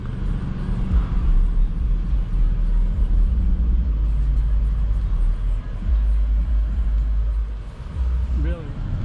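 A 2021 BMW X7 M50i drives on the road, its engine rumbling as a steady low drone with road noise throughout and brief dips. Someone talks over it near the end.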